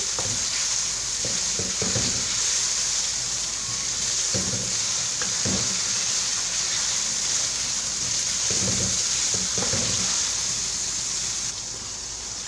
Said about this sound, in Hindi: तीन 4 मिनट हो गए चिकन को भूनते हुए।